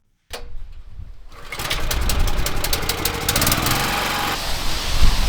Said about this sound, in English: Pressure washer stalled again.